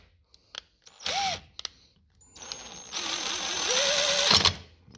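A power driver snugs the clamshell screws on a Stihl FS 110R trimmer in short whirring bursts, a brief buzz, a pause, then a longer rising whine that stops abruptly, close and fairly quiet.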